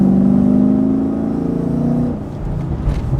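A loud V8 car engine revs and accelerates with a deep, rising growl, then eases off into a lower rumble near the end.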